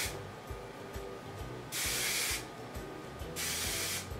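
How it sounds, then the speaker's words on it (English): Argan Magic High Shine hairspray is sprayed close by in two sustained hissing bursts, each about a second long, over a faint background. "we're gonna go in with the Argan Magic High Shine Hairspray now"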